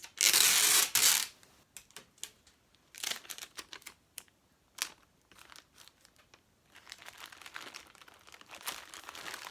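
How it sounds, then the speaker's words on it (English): Packing tape pulled off a roll and wrapped around a plastic bag of food, giving a loud long rip at the start followed by shorter crinkly tearing and rustling bursts with pauses. "I put again packing tape around it. Okay, and then packing tape around this end"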